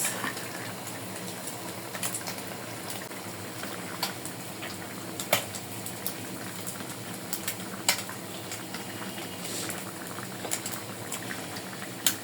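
Water boiling in a cooking pot for a puti fish and ridge gourd curry, a continuous close bubbling with scattered louder pops, heard alone without talk.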